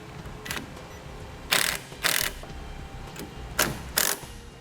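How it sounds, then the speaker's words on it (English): Self-tapping screws are driven into the prongs of a trailer wiring base plate to mount a 6-pole connector, heard as several short, close whirring bursts from a driver, mostly in pairs, with quiet gaps between. "we'll attach our 6-pole connector to the prongs that are provided on our base plate using the self-tapping screws"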